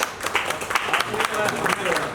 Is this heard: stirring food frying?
no